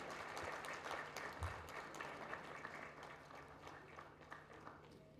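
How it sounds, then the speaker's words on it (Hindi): An audience at a memorial lecture event applauds, a soft, distant wash of clapping that carries on steadily for several seconds with faint talk beneath it. "एक बार तालियां बजा के स्वागत किया जाए।"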